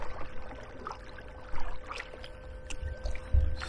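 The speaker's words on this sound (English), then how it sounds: "I'm actually correcting by paddling." Kayak paddle strokes dip into the water beside an AquaTec Ottawa Pro kayak fitted with an electric fin. The splashes are soft, irregular and close, over faint low rumble, with a louder slap near the end.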